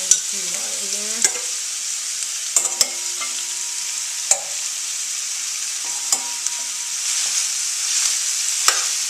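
Julienne-cut vegetables stir-fry in a pan, with a steady sizzle behind repeated sharp clinks and scrapes of a utensil against the pan, close up and with no talking.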